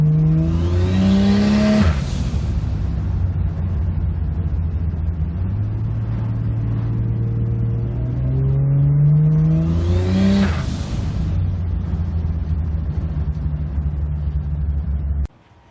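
A turbocharged 4200 car drives and accelerates hard, engine revving up through the gears with rising pitch, a shift, then another loud pull and a steady roar before cutting off abruptly.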